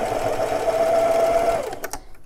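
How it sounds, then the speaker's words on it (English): A home sewing machine back-stitching to lock the thread on a jeans hem with 30-weight thread, a steady close whirring hum that runs about one and a half seconds, then stops with a couple of brief clicks. "And back locking that stitch in"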